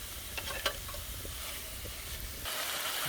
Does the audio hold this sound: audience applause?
no